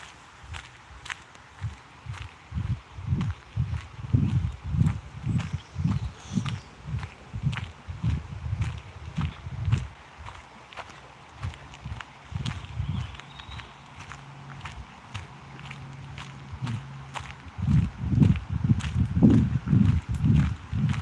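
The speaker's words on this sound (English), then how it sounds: "you can probably just hear my footsteps and then the water" Footsteps crunch steadily along a woodland path beside a wide river, close and rhythmic, with a soft wash of flowing water running underneath throughout.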